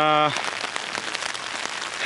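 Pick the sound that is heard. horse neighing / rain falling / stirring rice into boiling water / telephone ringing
rain falling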